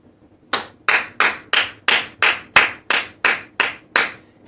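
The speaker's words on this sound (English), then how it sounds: "If you not clapping, I'm clapping, man" A single pair of hands claps close by, giving eleven crisp, evenly spaced claps at a steady rhythm with no voices over them.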